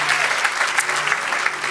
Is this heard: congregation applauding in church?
yes